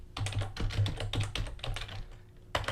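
Rapid clattering keystrokes on a computer keyboard, in uneven bursts of typing with a short pause near the end, close and fairly quiet, no voices.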